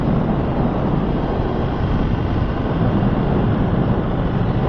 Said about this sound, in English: It is a windy day out today, but it is gorgeous temperature.